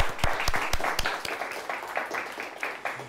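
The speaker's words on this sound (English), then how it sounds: "Let's give them a nice round of applause." An audience gives a round of applause for high-school quiz teams at a quiz show, a short burst of steady clapping from a small crowd, moderately loud and fading slightly toward the end.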